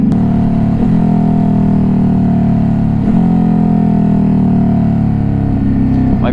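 Steady, loud engine drone of a 2021 Ducati Hypermotard 950 RVE motorcycle while riding, holding a constant mid-range pitch with slight shifts and a couple of brief gear-change dips, close and uninterrupted throughout.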